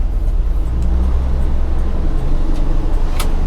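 A 1985 GMC C1500 Sierra pickup on the move, a steady low engine drone and road rumble filling the whole stretch at an even, close level with no talk over it.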